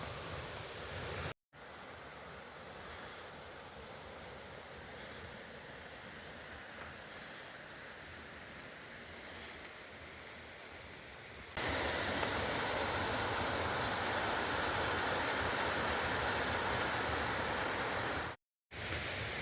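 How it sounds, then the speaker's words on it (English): A woodland waterfall fed by small streams rushes as a continuous broadband roar. It gets noticeably louder partway through, with a couple of momentary dropouts. "you wouldn't think this small body of water could create a waterfall as big as what there is"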